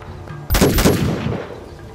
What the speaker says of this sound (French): Il tire les deux coups de son fusil de chasse.